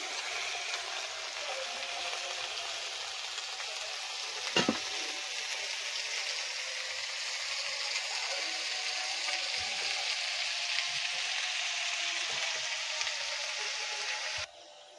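Potatoes fry in hot oil in a kadai for bhetki fish curry at an outdoor night picnic, giving a steady, loud sizzle throughout with one sharp clack partway through and no talking.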